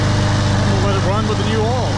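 A Troy-Bilt lawn mower's small engine runs steadily and loudly close by, with a voice speaking briefly over the drone.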